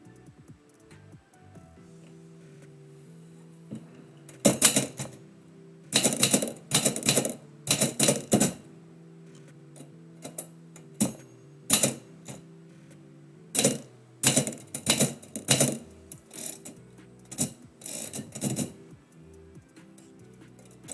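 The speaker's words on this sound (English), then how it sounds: "since we're going to start typing" Manual typewriter typing during a poetry livestream, bursts of sharp mechanical key strikes in quick irregular clusters separated by pauses, close and crisp over a quiet background of soft music.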